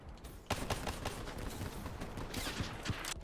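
Dense, rapid gunfire in a shooter video game rattles in steady bursts, with sharper cracks standing out, moderately loud and continuous.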